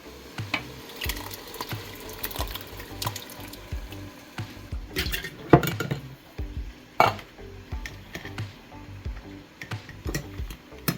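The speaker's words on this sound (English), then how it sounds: "I'm going to throw that into the pot real quick" Canned chili ingredients tumble into a cooking pot for a Wendy's-style chili, giving wet splashes and sloppy plops with a few sharp clanks near 5.5 and 7 seconds, close and moderately loud with no talking.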